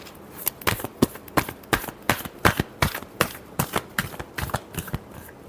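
Tarot cards being shuffled by hand, a rapid series of crisp riffling slaps and flicks in irregular bursts, close and clear with no talking.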